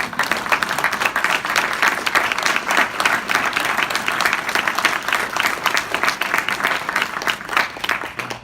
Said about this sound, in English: I want a round of applause for all this community support.